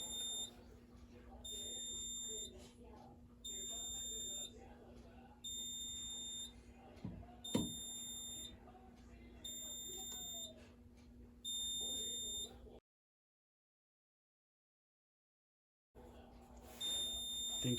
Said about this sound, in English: Now we're going to test the System Sensor i3 smoke detector, and I will be using a candle to test the detectors